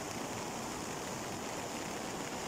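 Loud, steady rush of a swollen, flooded river, a continuous broadband roar of churning water close by with no break across the whole stretch.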